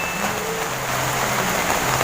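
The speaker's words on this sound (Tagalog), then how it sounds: "Walang tigil talaga ang ulan dito mga kadong." Steady rain falls without pause for a few seconds, a dense even hiss with no voices over it.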